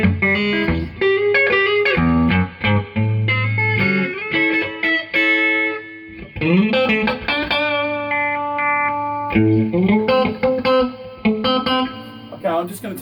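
Distorted electric guitar played through a Peavey Classic 30 amplifier, crunchy chords and single notes with pauses between phrases, loud and close.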